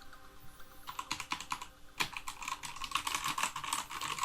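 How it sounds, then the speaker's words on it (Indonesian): Fingers type quickly on a DA Meca Fighter Ice TKL mechanical keyboard, producing a dense run of crisp, clacky keystrokes close to the listener, with no voices. "dan kita buat ngetik"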